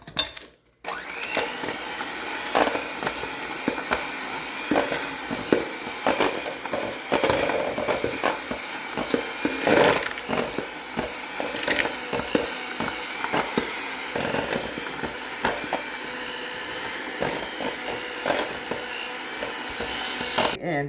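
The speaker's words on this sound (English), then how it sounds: "Now we're going to mix this together." An electric mixer beats sugar cookie dough made with a whole egg and an egg yolk, whirring and rattling loudly and continuously, with clattering knocks as the beaters hit the bowl.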